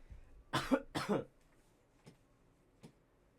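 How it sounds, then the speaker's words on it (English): Two sharp coughs close to the microphone, one right after the other, followed by a couple of faint small clicks in a quiet room. "I'm a little sick, so you're gonna hear me coughing"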